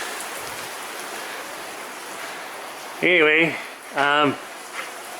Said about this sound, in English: It's just raining out.